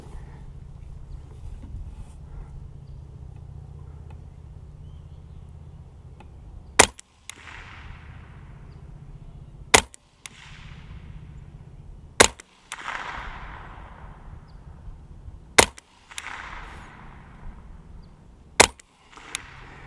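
A .22 LR rifle firing Federal Hunter Match ammunition at a 50-yard target: six sharp, fairly quiet cracks spaced a few seconds apart, with near silence between the shots.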